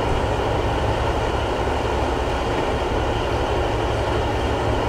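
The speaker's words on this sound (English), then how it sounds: "The train now approaching platform 4 is the 1456 regional." A Class 156 regional train approaches a platform, heard as a loud, steady rumble of wheels and engine that fills the moment without pause.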